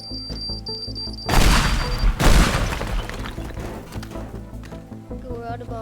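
In the video game Teardown, two bombs go off on a tower in quick succession, each a sudden loud blast with crumbling debris rattling and rumbling afterward, set against a steady game soundtrack.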